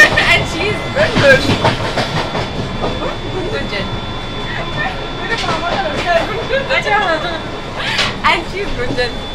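The Gatimaan Express high-speed train runs with a steady rumble and rhythmic rail clatter, heard from close by under continuous talking.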